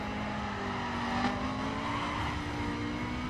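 BMW M4 in the racing game The Crew, its engine droning steadily as the tires slip and squeal briefly out of a corner, a continuous game-audio mix without talk.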